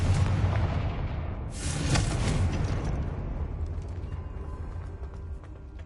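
Fire spell explosion in the video game Hogwarts Legacy: a deep, booming blast with a sharp burst on top, then a rumbling decay fading over several seconds.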